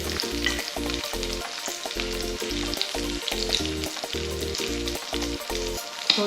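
Leftover food frying in its own rendered oil, a loud close crackling sizzle under a rhythmic pulsing low hum, with no speech.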